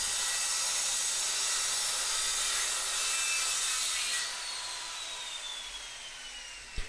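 Wood being cut slowly and steadily with a circular saw for a dance pad build, a continuous high rasping whine that holds level, then drops slightly as the cut finishes, with a small click at the end.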